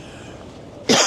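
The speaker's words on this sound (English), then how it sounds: "So hence some of the coughs." A single sharp, loud cough bursts out at the very end after a stretch of quiet outdoor background on a city street.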